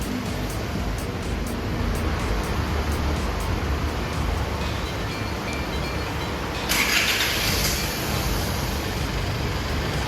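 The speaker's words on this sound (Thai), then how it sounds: "รถ ได้ทำการสตาร์ทแล้วนะครับผมสังเกตจากเครื่องยนต์นะครับผม" An Isuzu D-Max pickup's engine runs after a remote start, a steady low rumble close by, with a brighter hiss rising near the end and no talking.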